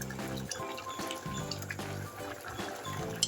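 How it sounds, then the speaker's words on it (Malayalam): A potato and brinjal curry bubbles in a pan, with faint, close liquid popping and gurgling under a low background hum, quiet and steady. "ഇത് നമ്മുടെ ഉരുളക്കിഴങ്ങും വഴുതനങ്ങയും കൂടെ നല്ലപോലെ തിളയ്ക്കുന്നുണ്ട്"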